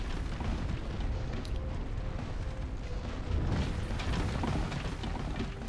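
Video game explosions rumble as a dense, sustained roar with a deep low end, swelling slightly louder partway through, with no speech over it.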